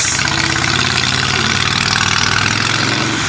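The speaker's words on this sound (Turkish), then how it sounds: "Ses yalnız gerçekten bu egzozlarla dehşet." Harley-Davidson Sportster Iron 883 motorcycle idling with aftermarket exhausts, a loud, steady low rumble with a pulsing beat that carries unbroken from start to finish, no voices.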